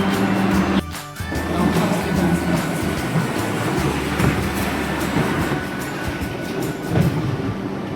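A Vande Bharat Express train on a busy Indian station platform, loud continuous rumbling and rolling rail noise with a thud near the start and a faint tone running through, crowd murmur underneath.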